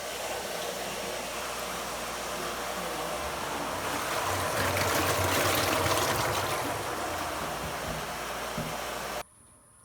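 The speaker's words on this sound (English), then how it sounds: "So now water can come out." Water gushing steadily out of an opened valve on a transport tank, a continuous broad rushing and splashing that swells louder midway, then cuts off abruptly near the end.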